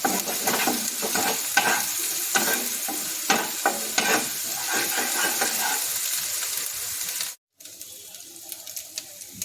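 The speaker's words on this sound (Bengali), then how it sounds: "পেঁয়াজটাকে ভালো করে ভেজে দেবো, একটু লাল লাল করে ভেজে নেব।" Sliced onions frying in oil for a black pomfret tel jhal, with steady close sizzling broken by repeated scraping strokes of a spatula stirring the pan, then a brief cut and softer sizzle to the end.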